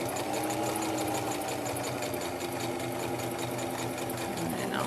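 Sewing machine stitching a fleece hat, running continuously and steadily at close range for the whole stretch with a busy mechanical whir and no talk over it.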